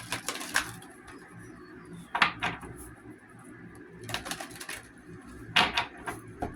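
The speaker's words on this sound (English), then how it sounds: "Shuffle." Tarot cards shuffled in bursts of crisp riffling and tapping, three distinct clusters spread across the stretch with quieter rustling between them, close and fairly soft.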